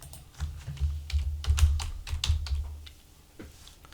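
Irregular keystrokes clatter on a computer keyboard at an office PC, close and moderately loud, in short bursts with brief pauses between them and no talking.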